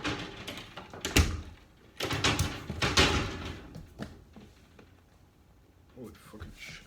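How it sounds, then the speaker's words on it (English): A door is closed indoors with a few thudding knocks and rattles, the loudest impacts coming in quick succession, while a person talks nearby. "Close the door."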